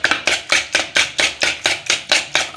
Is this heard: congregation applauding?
no